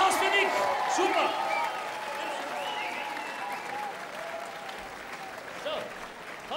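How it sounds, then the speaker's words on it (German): Carnival audience at a Villach Fasching show applauding a man named Nick, a steady wash of clapping with crowd noise and voices whooping over it, easing off slightly toward the end. "Ein Applaus für Nick."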